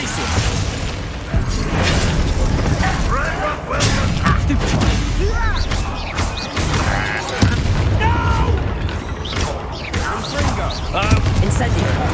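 Combat spells in Hogwarts Legacy pop, burst and boom in rapid succession over a dense, loud mix of game effects and music, with a voice calling out spell names throughout.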